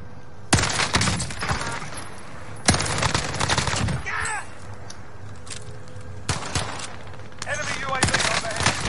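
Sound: gunfire from an enemy in the video game Warzone

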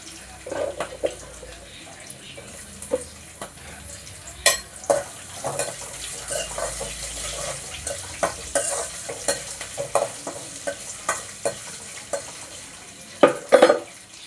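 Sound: dried red chillies crackling as they fry in hot oil

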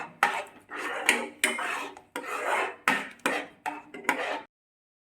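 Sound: stirring egg bhurji in a pan

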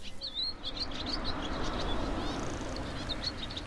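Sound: birdsong in hedgerows

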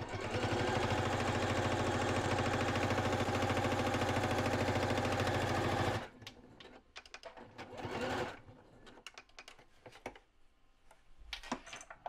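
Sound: sewing machine stitching across the top of a fabric pouch

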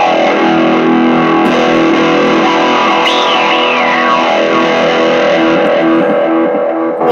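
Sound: electric guitar through Doctor Q envelope filter pedal

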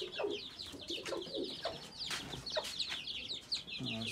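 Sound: Java rooster and hens clucking

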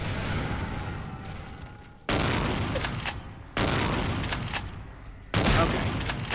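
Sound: shotgun blast from the video game Vampire The Masquerade: Bloodlines

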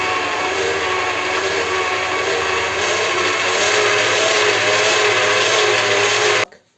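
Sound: electric meat grinder grinding liver, onion and bread

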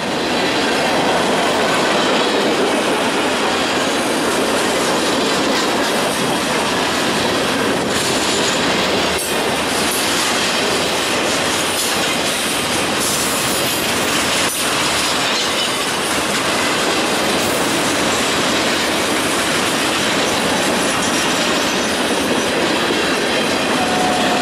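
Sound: freight train passing on the rails

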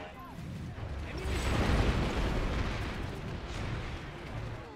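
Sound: sticky grenade exploding in a video game

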